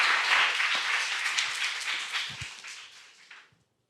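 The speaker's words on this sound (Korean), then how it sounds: "큰 박수 부탁드립니다" A live audience applauds a student team taking the stage at a national youth competition presentation, steady broadband clapping that fades out near the end.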